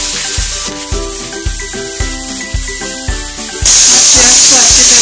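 Chopped onion hits hot oil in a pan that already holds bay leaves, breaking into a loud, steady sizzle and hiss that rises sharply toward the end, with background music running throughout.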